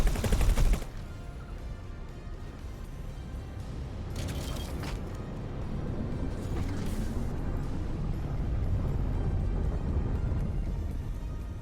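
Ship turrets in the space game X4 fire away in a dense, continuous barrage, a rapid rattle of shots with a sharp burst at the start and a few louder cracks later, sustained throughout.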